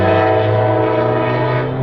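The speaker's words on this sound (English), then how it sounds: "Oh, it is the high-speed train." A passing Brightline high-speed passenger train in Rockledge, Florida sounds a loud, sustained horn over a steady rumble, close and continuous.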